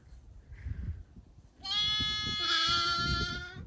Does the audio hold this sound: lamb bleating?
yes